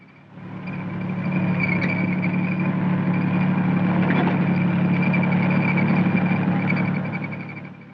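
A 450 horsepower diesel engine powers a self-propelled 155mm howitzer, giving a steady low rumble that rises in after half a second and holds at an even level through the clip.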